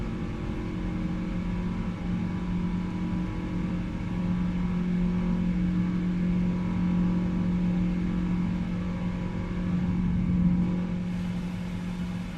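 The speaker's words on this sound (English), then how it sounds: "I do like the sound of these engines at this climb thrust, though, man." Heavy Boeing 777 airliner jet engines at climb thrust in a flight simulator, a steady, even droning hum with a low tonal whine that holds for the whole stretch, no voices.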